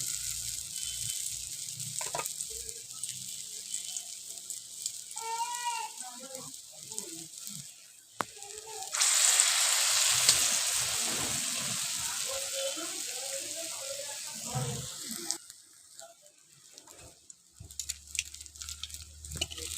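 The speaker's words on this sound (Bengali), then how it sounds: "প্রথমে আমি বড়াগুলো এইভাবে ভেজে নিচ্ছি" Small lentil fritters (bora) sizzle in hot oil in a pan, a steady close hiss that swells louder midway, with intermittent clatter and faint background noise.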